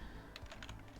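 Keystrokes on a computer keyboard as an SSH login command is typed, a quick uneven run of soft clicks close by over a steady background hum, no talking.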